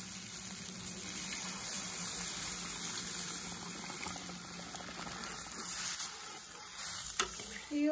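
Water hits hot fried masala in a pan for a Jharkhandi-style arbi leaf curry, giving a loud, continuous bubbling hiss that lasts throughout, with a sharper burst near the end and faint voices in the background.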